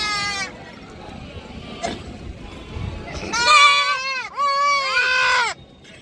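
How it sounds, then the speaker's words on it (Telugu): Goats bleat loudly and close by at a goat market in Macharla, several wavering calls in a row after a quieter stretch of background noise. "ముప్పై మూడు మేకలు ఉన్నాయి"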